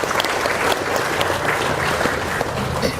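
Loud, dense applause from a congregation at a Hindu dharma discussion gathering in Cibinong, sustained evenly throughout without speech.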